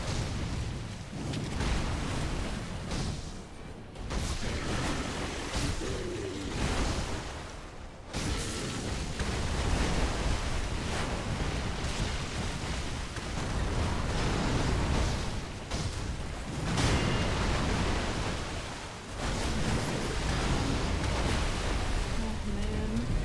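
Water splashing in the video game Sekiro, a continuous loud rushing, sloshing wash of noise with brief dips, voices talking underneath.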